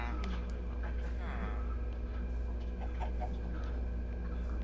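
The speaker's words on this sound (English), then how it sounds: "I'm actually really sad for the chickens right now." Minecraft chickens give a few short, blocky clucks over a constant low hum of game audio, while people talk over them.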